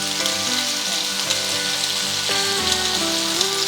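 Salmon fries in a pan with a steady, close sizzle and crackle that holds through the whole moment, and no one speaks.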